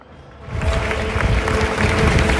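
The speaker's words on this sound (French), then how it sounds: "Et vous entendez ces applaudissements, c'est lorsqu'en procession, le pape Léon XIV est arrivé sur le parvis de la place Saint-Pierre." Crowd applause at St. Peter's Square in Rome as the pope arrives in procession for his inaugural mass, a broad steady wash of clapping that swells after a quiet start and stays loud and continuous.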